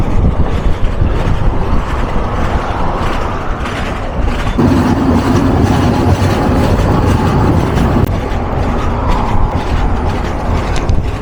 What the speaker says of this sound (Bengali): ঢাকা থেকে 115 কিলোমিটার রেল যাত্রা সমাপ্তি ঘটতে যাচ্ছে ইব্রাহিমাবাদ রেলওয়ে জাংশনে আমাদের এই নীলসাগর এক্সপ্রেস ট্রেন জার্নির